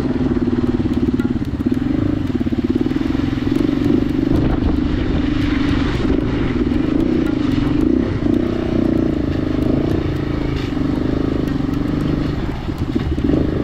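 A motorcycle grinds along a slippery, muddy stretch of the 33-kilometre Mauban-Cavinti trail in the Sierra Madre, its engine holding a loud, steady drone close by with scattered clatter on top.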